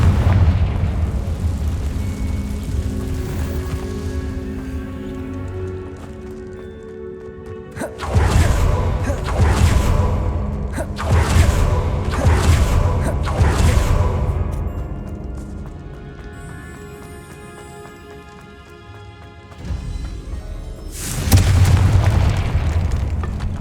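Confringo blasting spell explosions in Hogwarts Legacy, a series of loud booming blasts and bursts over a low rumbling game soundtrack, repeated several times.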